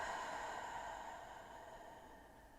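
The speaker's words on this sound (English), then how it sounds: "Breathe out." A slow, soft exhale during a guided breathing exercise, a long airy breath that fades gradually and is heard alone in a quiet room.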